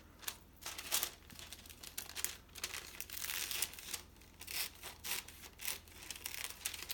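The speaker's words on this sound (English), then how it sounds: "I'm going to get my scissors, and I'm simply just going to cut it out" Crinkling and snipping of wax paper cut with scissors while lining a cake pan, a run of close, irregular crackly bursts that come and go without pause and with no talk.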